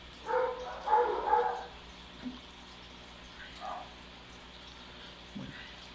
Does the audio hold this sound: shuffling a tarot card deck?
no